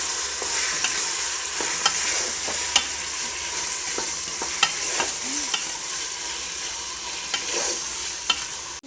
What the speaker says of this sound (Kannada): ಒಂದೆರಡು ನಿಮಿಷ ಇದನ್ನು ಎಣ್ಣೆಲಿ ಫ್ರೈ ಮಾಡ್ಕೊಳ್ಳಿ